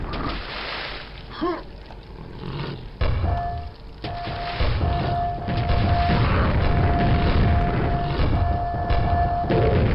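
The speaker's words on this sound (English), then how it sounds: "Let's just lob some grenades down there." Grenades explode in the video game Quake as deep, muffled booms and thuds that build into a sustained rumbling roar, loud and close, with a faint tonal whine over it.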